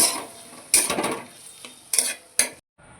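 A spatula scrapes and stirs potatoes through spice paste in a pan for a bhola bhetki fish curry, with a few distinct clattering strokes over a soft sizzle, close up and with no talk.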